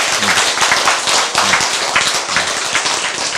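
A church congregation claps together during a sermon, a dense, steady burst of many hands held for several seconds at close range.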